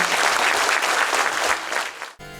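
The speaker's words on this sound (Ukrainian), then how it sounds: "І довгі-довгі оплески нашим колегам" Long, loud applause from an audience at a national film awards ceremony in Kyiv, steady and dense before cutting off abruptly near the end.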